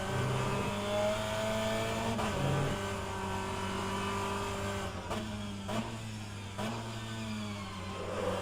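Race car engine in a sim racing game, a BTCC-style touring car on the Indianapolis road course, revving with steady harmonic tones, sharp gear shifts and throttle lifts, moderately loud with no talk.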